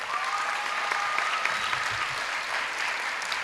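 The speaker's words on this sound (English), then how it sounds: "Let's give a round of applause" Steady applause from an audience at a school moving-up ceremony, dense continuous clapping from a large room full of people, moderately distant and even in level, with no voices over it.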